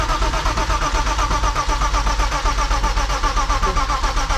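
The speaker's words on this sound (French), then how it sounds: "Appuie sur l'accélérateur à fond. Donc là, tu restes comme ça et ça va faire démarrer." A BMW E36 320i with a turbo conversion, built for drifting, cranks over steadily without catching, a loud, even rhythmic churn of the starter heard up close for several seconds.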